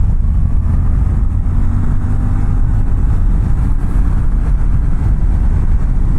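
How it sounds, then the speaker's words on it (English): A 2024 Suzuki V-Strom 800 motorcycle pulls hard in 4th gear, a loud, continuous engine drone mixed with rushing wind, heard close and without talk. "Alright, I'm in 4th gear. Let's see the passing power."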